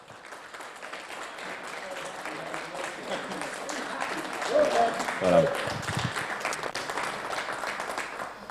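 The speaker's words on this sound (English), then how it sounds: "A huge round of applause for Matt Goodger-Scott." Audience applause at a sim racing series awards segment, a steady crowd clapping throughout with someone talking over it and brief louder bursts of cheering midway.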